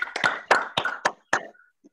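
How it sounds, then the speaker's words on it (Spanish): Online audience on a Zoom call claps in sparse, uneven bursts, about six distinct hand claps spread over two seconds, close and compressed like open microphones, fading to a faint tap at the end. "abrimos el micrófono, por favor, todas y todos, para el merecido aplauso"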